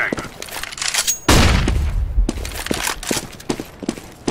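A flashbang grenade bursts in Counter-Strike: Global Offensive, a loud sudden blast with a ringing wash lasting about a second, among scattered gunfire and footsteps.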